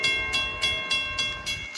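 A CSX freight train rolls past in pouring rain, its wheels clacking over rail joints in a regular rhythm about every third of a second, loud and close above a steady rumble.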